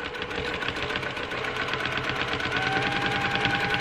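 A domestic sewing machine hums along steadily during free motion quilting, its fast, even needle chatter close and continuous with no talking over it.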